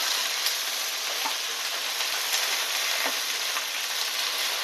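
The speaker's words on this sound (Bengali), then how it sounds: "এবার এটাকে সময় নিয়ে সুন্দর করে ভাজতে হবে" Kharkul leaf paste fries in a pan with a steady, even sizzle that holds at a constant level throughout, close by and with no voices.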